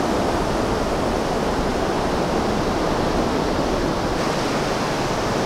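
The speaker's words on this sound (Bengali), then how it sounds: "একটা সমুদ্রের ঢেউয়ের শব্দ কানে" Sea waves at Inani Beach roll in as a loud, continuous rushing wash of surf that fills the whole stretch evenly, with no voices over it.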